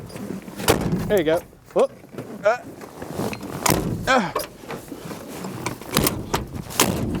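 An old, long-abandoned Plymouth Barracuda's car door is pushed shut, a few solid thuds landing among frequent close-up talking from people standing by the car.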